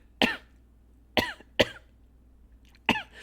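Four sharp, separate coughs from a young woman, close and clear in a quiet room, spaced irregularly with short pauses between them.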